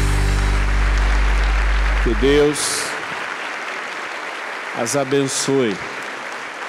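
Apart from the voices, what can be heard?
applause in church for mothers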